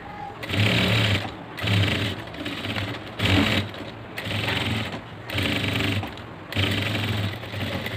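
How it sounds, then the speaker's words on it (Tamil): A sewing machine stitching a churidar seam runs in about six steady bursts, each a busy mechanical whir with brief pauses between runs, close and clear. "அகைன் அது மேலே இன்னொரு ஸ்டிச்சஸ் கொடுத்துக்கிறேன்"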